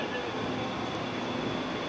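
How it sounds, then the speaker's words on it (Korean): A subway train arrives at a station platform, a steady loud rumble and roar filling the space with constant broadband noise. "지하철이 온다."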